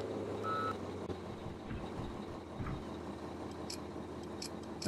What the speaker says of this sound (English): That's a loud backup beep.